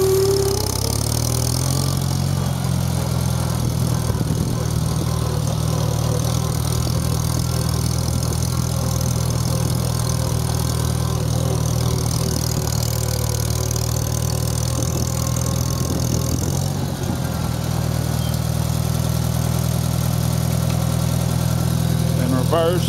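A 1973 IH Farmall 140 tractor runs in third gear, its engine giving a steady, close, low throbbing drone that carries unbroken from start to finish.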